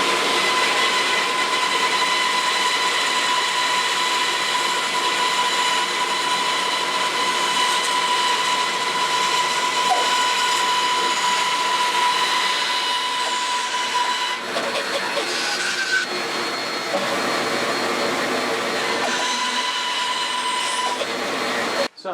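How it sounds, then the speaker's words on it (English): A bandsaw cuts V notches into a wooden block held firmly in a hand clamp, making a loud, steady, continuous whine and rush that holds for the full stretch with slight shifts near the end; no one speaks. "now we're going to cut those V's on the bandsaw."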